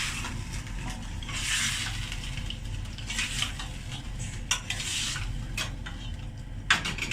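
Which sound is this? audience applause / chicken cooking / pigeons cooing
chicken cooking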